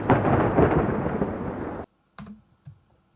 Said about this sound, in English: So we're going to make this thunder come in